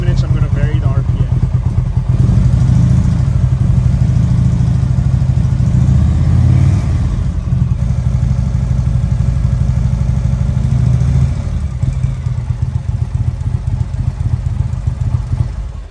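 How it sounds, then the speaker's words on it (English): An Indian ThunderStroke motorcycle engine starts and runs loud and close, with the rumble rising and falling as the revs are varied and easing off near the end, while someone talks over it. "So let me start the bike and do that."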